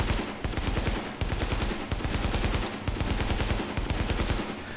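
Sustained automatic AK rifle fire in The Division, rapid loud bursts broken by brief pauses, alone with no talk.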